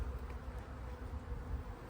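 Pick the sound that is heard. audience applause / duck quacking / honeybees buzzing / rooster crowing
honeybees buzzing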